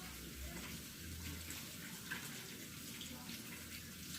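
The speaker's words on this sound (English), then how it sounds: "I'm going to wash my hands" Hands being washed under a running tap in a home kitchen, a soft, steady stream of water with faint splashing, fairly quiet and continuous.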